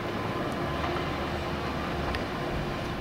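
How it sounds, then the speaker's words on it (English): A train rumbles past beyond the trees near a hiking trail on Barr Trail, a steady broad roar heard at a distance, continuous and unbroken, with no voices. "Yep, there's the train right there."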